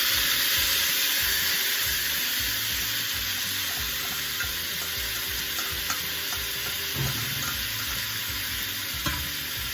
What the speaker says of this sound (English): in this medium-sized pot here, I'm just gonna dump my turkey neck